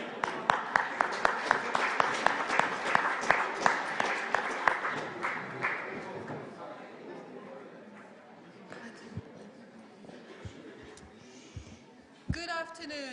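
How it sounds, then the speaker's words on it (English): A conference audience gives a round of applause, rapid dense clapping for about six seconds before it thins and fades into room murmur and talk, with a few later knocks. "a big round of applause for SCHR"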